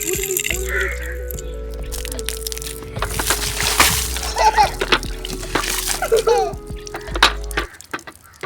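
Water splashes and sloshes steadily as it is poured from a pipe, with children talking over it at close range until the flow stops near the end.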